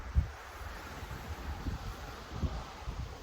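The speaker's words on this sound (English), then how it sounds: "It is super cold out today and very windy." Strong wind blowing outdoors on a cold day, a steady low rumbling buffet across the microphone with a few harder gusts and no voices.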